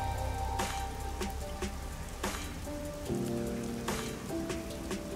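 Steady rain in a video game, Master Detective Archives: Rain Code, patters and hisses across surfaces in a neon-lit town area, with scattered sharper drops and a soft tonal hum beneath, continuous and fairly close throughout.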